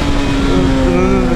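Hayabusa motorcycle accelerating in first gear, a loud, close engine drone holding a steady pitch and climbing slightly for just over a second, heard alone without speech.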